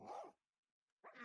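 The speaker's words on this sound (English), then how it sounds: "that was my dog" A pet dog barks in a home during a Minecraft play session: two short, loud bursts separated by a second of near silence, with no talk over them.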